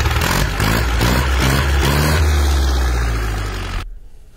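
A Massey Ferguson 185 tractor engine runs loud and steady at close range, its low rumble holding for about four seconds before cutting off abruptly.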